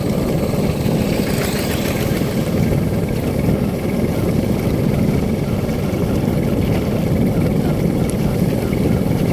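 Steady loud drone of a Thai rural farm vehicle, a rot e-hang, its engine running continuously on a country road with a low rumbling throb and no break.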